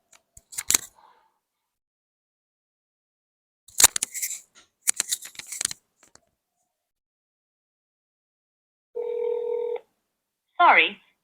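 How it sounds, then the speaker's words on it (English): A phone dials a toll-free number: handling clicks and rustles come first, then a steady tone and a short warbling electronic signal near the end, with no talking. "Now let's give it a try by calling the number"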